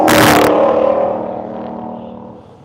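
A Ford Mustang GT500 on a race track at World Wide Technology Raceway during the One Lap of America event lets out a loud, close engine roar that cuts off after half a second. A low rumbling hum then fades slowly.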